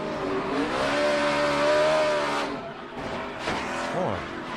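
A NASCAR race car's engine roars steadily from an onboard camera, loud and continuous, with the pitch shifting as the car works through a lap and a brief squeal near the end.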